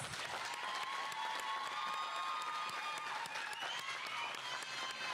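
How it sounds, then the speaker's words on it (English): Audience at a sheriff's office jail academy graduation ceremony applauding the graduates, steady dense clapping with some cheers throughout, fairly distant and even. "Please join me in a round of applause for the graduates."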